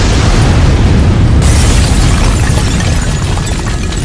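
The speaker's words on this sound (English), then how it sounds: "self-destruct feature has been activated. Exploding in 3," A loud self-destruct explosion erupts in a dense, roaring boom that fills the whole span, rumbling on and slowly fading over about four seconds, with no voices.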